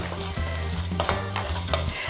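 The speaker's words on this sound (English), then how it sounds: "The ginger needs to be golden brown so you don't get the raw taste in your mouth." Ginger frying in a pot for a sweet and sour tamarind rice dish, sizzling steadily and loudly close by with stirring clatter and a few sharp utensil knocks, no voices.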